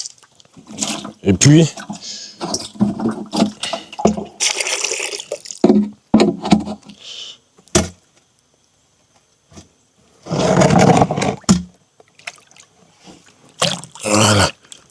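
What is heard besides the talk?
water being emptied from a watering can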